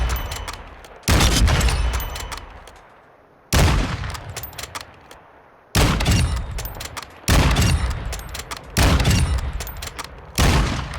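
Bolt-action rifle shots in Modern Warfare II, six loud, sharp cracks spaced a couple of seconds apart, each ringing out and decaying into a long echoing tail before the next.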